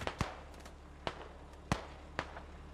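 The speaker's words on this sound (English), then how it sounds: "Oh, I just heard a ATGM go off." Several sharp, distant blasts from an ATGM anti-tank missile in a military video game, about five short cracks spread irregularly over a quiet background.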